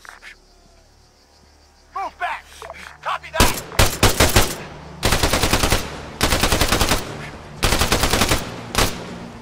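Machine gun fire in the Arma 3 military video game comes in loud, rapid bursts of several seconds each, close and repeated, after a brief voice at the start.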